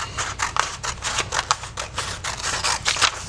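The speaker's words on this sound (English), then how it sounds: "Now, we're gonna cut one of these wheels out" Scissors snip steadily through paper while a color wheel is cut out, a quick, close, regular series of crisp cuts with no voices.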